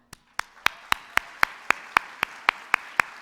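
Slow, evenly spaced single claps, about a dozen sharp hand claps at a steady rhythm, close and clear with nothing else around them.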